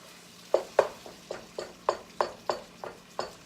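Ground beef frying in a pan for a hamburger casserole, with a soft sizzle beneath a series of regular scraping stirs of a utensil against the pan, roughly one every third of a second, close and distinct.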